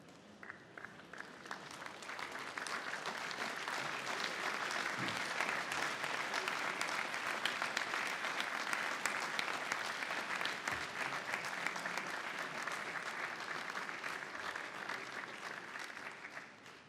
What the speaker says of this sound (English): So why don't you stand up and applaud your families?